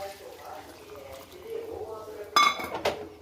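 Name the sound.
pot being covered with a lid while cooking mutton pulao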